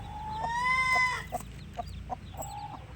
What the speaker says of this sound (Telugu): కోడి అయితే చాలా చిన్నదే